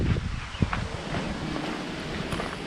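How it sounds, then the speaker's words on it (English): Strong gusting wind buffets the microphone outdoors during work on a 1961 Pontiac Laurentian, a steady broadband roar with a few faint knocks and rustles, and no voices. "Man, the wind is freaking crazy today."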